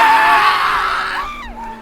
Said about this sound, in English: that was the enthusiastic screams of the Indian racing team